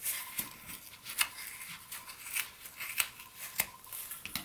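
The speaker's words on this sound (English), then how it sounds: "I'm just going to slide my scissors underneath" Quiet, crisp snips of scissors cutting yarn, several short cuts spaced irregularly, close up against a soft background hiss.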